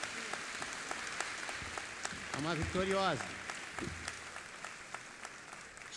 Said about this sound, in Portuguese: Vamos dar uma salva de palmas para essa menina.